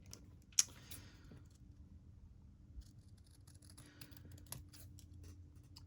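Scissors trimming a printed photo for papercraft, a few quiet, close snips and small scratchy cuts in a calm room with no talking.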